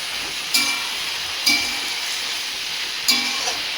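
Food fries in a covered pan over the heat with a steady sizzle, and three clinks of a utensil or lid stand out above it. No one speaks.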